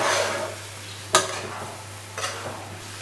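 Semolina upma with about two cups of water added, stirred in a pan over raised heat: a soft bubbling simmer broken by two or three distinct spoon scrapes against the pan, nearby and moderately loud, no speech.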